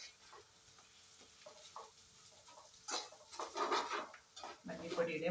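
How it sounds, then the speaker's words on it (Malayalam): Chilli and coriander powder being stirred into an okra curry in a pan, with a spoon scraping and clinking against the metal in short irregular strokes, growing louder toward the end. "ഇനി നമുക്ക് ഈ പൊടികളുടെ പച്ചമണം മാറുന്നത് വരെ നന്നായിട്ടൊന്ന് ഇളക്കി കൊടുക്കണം."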